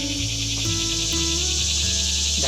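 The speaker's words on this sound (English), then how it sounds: "you can probably hear the locusts or the cicadas, whatever you call them, in the background" Loud, steady high-pitched buzzing of summer cicadas fills the background continuously, with lower tonal hum and faint varying sounds beneath it.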